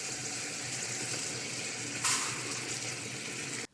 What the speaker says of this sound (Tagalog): At nagdagdag na nga rin pala ako dito ng tubig